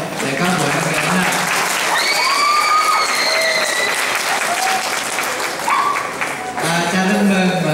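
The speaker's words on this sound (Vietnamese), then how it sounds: "xin mời tất cả mọi người chúng ta cho các em tràng pháo tay" Audience applause for children at a Christmas nativity pageant, dense steady clapping throughout with scattered cheers and shouts rising above it, continuous and loud.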